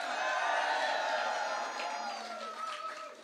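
A large crowd cheers and whoops at a political victory rally, a sustained roar of voices that gradually eases off while someone speaks over it.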